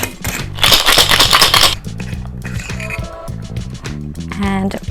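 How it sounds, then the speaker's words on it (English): Ice rattling inside a cocktail shaker as a cold brew mocktail with almond syrup is shaken, a loud, dense burst for under two seconds followed by quieter clinks over background music. "Then I'm going to shake it up."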